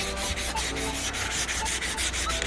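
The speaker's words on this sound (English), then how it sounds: "I should definitely do a cross hatch whenever I'm sanding and prepping for paint" Steady, close scratchy rubbing of sandpaper on metal in a cross-hatch pattern, prepping for paint, with quick back-and-forth strokes in a continuous rhythm.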